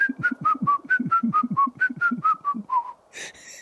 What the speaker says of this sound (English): I understand that you whistle while you work